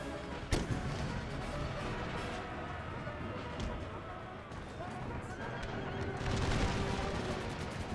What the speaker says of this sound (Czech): Oni mi střílí po děle.